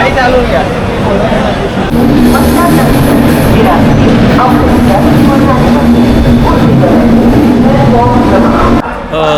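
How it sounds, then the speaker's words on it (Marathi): The 12903 Golden Temple Mail passenger train rumbles and hums steadily as it departs Surat station, with a low drone and rattling carriage noise, while people talk nearby. "तर सुरतवरून आता निघली ट्रेन"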